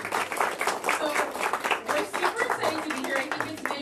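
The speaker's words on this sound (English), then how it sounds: "Let's give them a round of applause." Crowd clapping at a ribbon cutting for a new creamery business opening in Weslaco, uneven individual claps close by with a voice talking under and between them.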